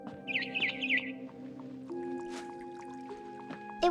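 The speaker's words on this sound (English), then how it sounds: "Then I heard chirping outside my window." Barn swallow chirping in the video game What Remains of Edith Finch, a few quick high twittering calls early on, fairly faint over a soft ambient tone with small drip-like sounds.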